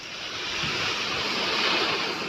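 Rough sea waves churn and wash continuously at a boat landing in rainy, murky weather, a dense roaring surge with wind buffeting the microphone.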